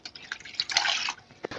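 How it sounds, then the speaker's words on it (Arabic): A cup of water poured into a pot while making knafeh with starch, giving a soft splashing, dripping trickle with a few louder spatters and a brief plop near the end. "وهسه نضيف قلاص المي،"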